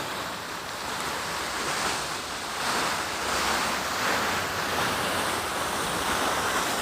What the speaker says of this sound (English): Beautiful fountain.